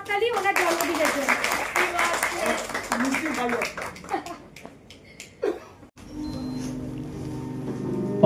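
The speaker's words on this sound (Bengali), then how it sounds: "জোরে একটা হাততালি ওনার জন্মদিনের জন্য" Audience clapping for a birthday greeting at a Nazrul Geeti evening programme, a sustained burst of many hands mixed with voices, fading out midway and giving way to quieter room sound.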